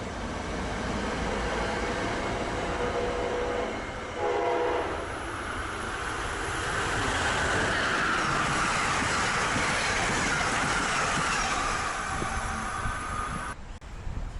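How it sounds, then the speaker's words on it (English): An Amtrak ACS-64 electric locomotive rolls through a station with a loud, steady rush of wheels and rail noise that builds and holds close by, with a brief horn-like tone early on. "another ACS-64 rolls through the station"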